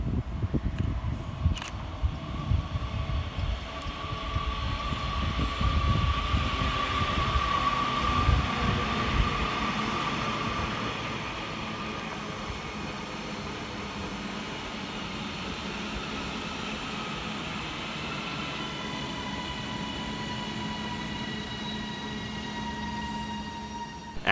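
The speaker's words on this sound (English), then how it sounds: "Arriving next into the station for Northern is 331101, working the 1144 Northern service from Manchester Piccadilly through to Alderley Edge" Northern class 331 electric unit 331101 pulls into Levenshulme station, a rising rumble and wheel noise up close that eases into a steady whine with faint tonal hums as it slows, no voices.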